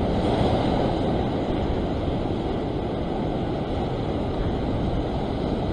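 Ocean surf washes steadily against a rocky shore where someone is fishing for rock blackfish, a loud continuous roar with wind noise and no clear breaks.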